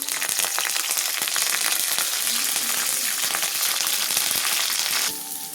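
Curry leaves dropped into hot oil in a pan for fish curry crackle and sizzle loudly and densely for about five seconds, then the sound cuts off abruptly.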